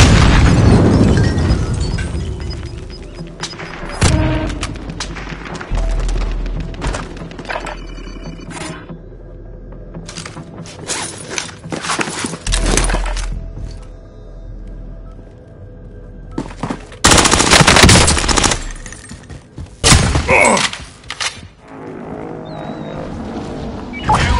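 Rapid bursts of airsoft or milsim gunfire crack out in clustered volleys across an outdoor skirmish, some shots close and sharp, others farther off, with loud flurries near the end.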